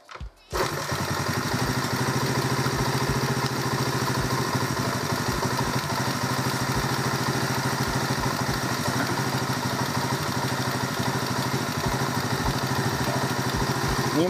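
Alpha 72 motorcycle engine running steadily after an engine replacement, a continuous close idle with a dense, rapid mechanical clatter and regular low pulses, starting up abruptly and holding an even level throughout.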